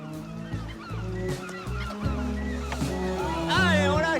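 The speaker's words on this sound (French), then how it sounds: "Ce matin, des goélands et un cormoran noir." Gulls and a black cormorant calling over the Baie de Somme: a busy mix of honking, squawking bird calls, some overlapping, with a louder burst of cries toward the end.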